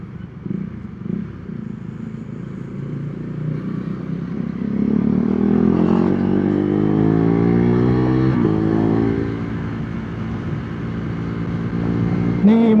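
A KTM Duke 390 motorcycle fitted with a quickshifter and Termignoni exhaust is ridden, its engine droning close by, then climbing in pitch through a sustained pull before easing off and rising again.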